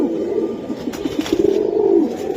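Pigeons offered for sale coo in low, rolling throaty calls that overlap continuously and sound close and fairly loud, with no talking.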